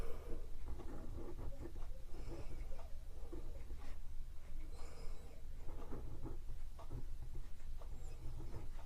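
A Pilot Lucina fountain pen with a springy nib scratches across paper in close, steady strokes, a soft uneven rasp that rises and falls with each line and goes on without any talking.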